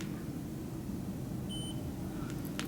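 A single short, high electronic beep from a glucose meter sounds once midway over a low background rumble.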